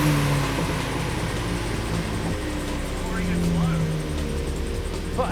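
A Mitsubishi Lancer engine strains on a dyno run, a loud, continuous roar holding high revs with shifting pitch, nearby and steady, while voices are heard over it.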